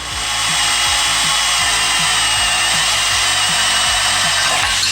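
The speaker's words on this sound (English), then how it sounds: "I'm going to drill it from the inside to make sure I can get as close to the edge as possible." Power drill boring a hole during a Murray tractor build, a loud continuous high whine with repeated low grinding pulses, close up and without talk.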